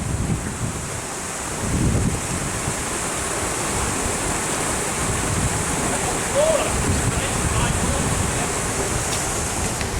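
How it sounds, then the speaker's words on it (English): Water rushes steadily into a canal lock chamber as it fills, a loud, constant turbulent roar with some wind buffeting on the microphone. "just until the lock fills up steadily"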